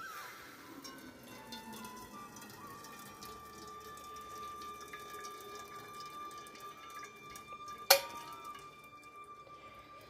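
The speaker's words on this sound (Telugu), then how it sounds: "ఈ విధంగా ఫిల్టర్ చేసుకుందాము వడపోసుకుందాము" Melted jaggery syrup poured through a cloth filter in a home kitchen gives a steady, soft liquid trickle throughout, broken by one sharp click near the end.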